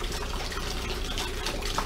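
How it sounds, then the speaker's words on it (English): Cold water is poured from a gallon into a Mr.Beer fermenter for a boysenberry saison, giving a continuous, fairly close splashing rush with no talking. "So I'm just going to go ahead and pour in my 1 gallon of cold water."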